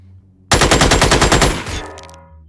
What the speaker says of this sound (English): what I'm going to do is just shoot into the wall